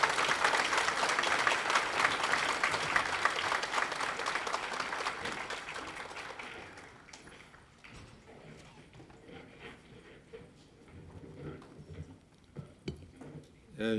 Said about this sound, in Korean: 우리 감사한 마음으로 박수로 환영하도록 하겠습니다